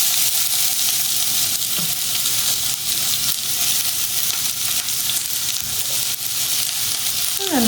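Onion pieces frying in a pan as part of a black chickpea and millet bowl, a steady close sizzle and crackle running unbroken throughout with a few faint clinks, no talk.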